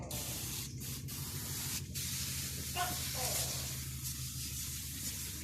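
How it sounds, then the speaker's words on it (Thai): A sprayer mists RD2551 foliar fertilizer onto a one-year-old durian tree, its nozzle set to a fine spray: a steady, close, continuous hiss over a low, droning hum that runs throughout. "เราจะมาดูวิธีการฉีดปุ๋ยทางใบกัน แรงไปต้องปรับให้เป็นฝอยเพราะว่าต้นไม่ใหญ่"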